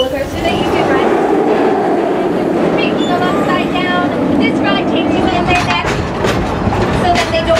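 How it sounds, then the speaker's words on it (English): A roller coaster train at Busch Gardens Tampa rumbles and clatters steadily along its track, a continuous loud roar lasting throughout, with people talking over it. "Roller coaster that you can ride"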